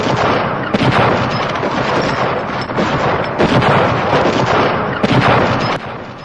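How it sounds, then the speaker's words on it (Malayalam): A sound effect of rapid rifle volleys fired into a crowd during the Jallianwala Bagh massacre: loud, dense bursts of gunfire repeat in quick succession with booming reports, and no speech. "ജനറൽ ഡയറും തന്റെ പട്ടാളക്കാരും ഇരച്ചു കയറി യാതൊരു പ്രകോപനവും കൂടാതെ തന്നെ ജനക്കൂട്ടത്തിന് നേരെ തുരുതുരാ നിറയൊഴിച്ചു"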